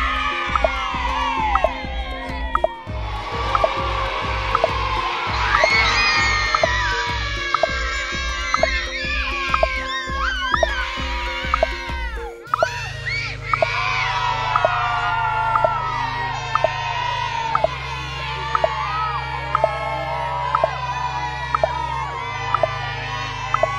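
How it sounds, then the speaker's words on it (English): Children cheering, whooping and shouting encouragement as a crowd during a one-minute timed challenge at a kids' ministry event, loud and continuous throughout, with a steady rhythmic music beat underneath. "Can you cheer me on? Don't let me stop, okay?"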